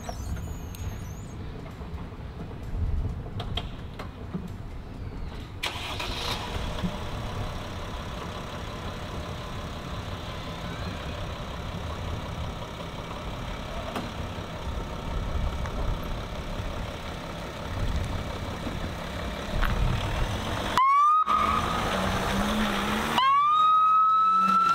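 An ambulance in Selfoss, Iceland, starts up and pulls away on a call. A steady engine rumble builds, and the rising and falling wail of its siren sounds loudly near the end.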